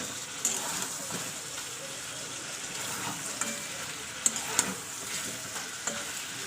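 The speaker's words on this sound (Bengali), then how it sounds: "খুলে ভালো করে মাংসটা কষিয়ে নিই" Chicken kosha with dried red chilli paste is stir-fried in a pan, a steady soft sizzle broken by repeated scraping stirs and a few sharp spatula clicks, heard close.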